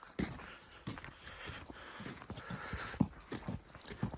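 A dog being walked through snow on a winter road near an off-grid cabin: soft, uneven crunching footfalls and jingles, quiet and close, with faint panting between steps.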